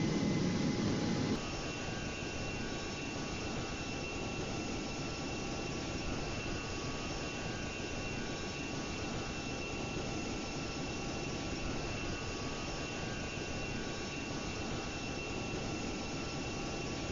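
A steady jet engine roar from an Airbus A318 in the GeoFS flight simulator drones on evenly for the whole stretch, with a faint high whine, after a short louder rumble at the very start.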